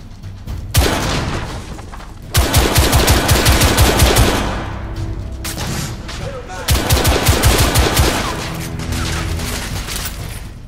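Shotgun blasts from enemies in the video game The Order: 1886, a dense run of loud, rapid gunfire in two long volleys with heavy booming low end, a brief pause between them, and a quieter stretch of shots near the end.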